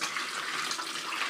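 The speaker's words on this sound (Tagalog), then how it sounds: "Lagyan ng tubig." Water pours steadily into a container holding live catfish, a continuous bright splashing rush running unbroken and alone at moderate loudness.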